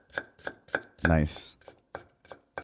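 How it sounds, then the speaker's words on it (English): Knife chopping carrots on a cutting board in a soothing, ASMR-like kitchen scene: a steady run of crisp, close taps with one louder, longer cut midway, and a single short spoken word. "Even though it's another angle, she's still cutting carrots"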